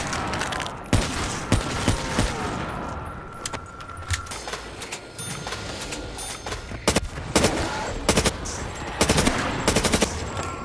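Rapid bursts of gunfire in a zombies video game crack repeatedly over about ten seconds, with sharp irregular shots and clustered volleys over dense background game noise.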